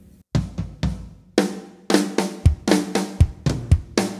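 A drum fill from a song played at a slower tempo: spaced tom and snare hits building into repeated crash-accented strikes, close and loud, no talking.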